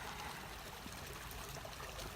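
Creek water trickles and dribbles steadily beside a backyard trail, a continuous soft wash with no voices over it.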